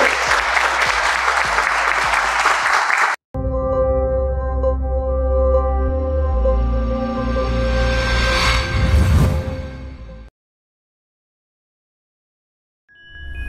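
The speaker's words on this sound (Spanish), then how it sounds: "Unos aplausos para estos grandes maestros." Loud audience applause for instructors at a Peruvian emergency brigade training course, dense clapping for about three seconds before it cuts to music, then silence.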